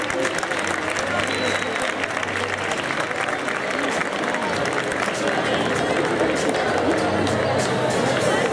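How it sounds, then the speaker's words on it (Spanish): A crowd at a school farewell ceremony applauds loudly and steadily, a dense wash of clapping mixed with cheers and chatter that carries on for the whole stretch. "Fuerte aplauso, por favor."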